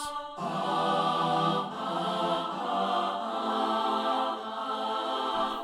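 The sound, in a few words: sampled female choir sustain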